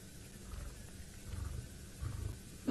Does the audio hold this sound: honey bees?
no